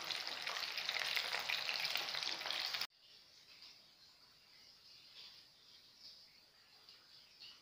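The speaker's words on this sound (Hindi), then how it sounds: "देखिए ये बहुत अच्छे से फ्राई हो रहे हैं" Chicken, KFC style, frying in hot oil over a medium-low flame gives a loud, dense sizzle for about three seconds, then drops abruptly to a softer, steady crackle.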